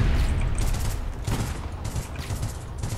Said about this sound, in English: There's another one down there still shooting.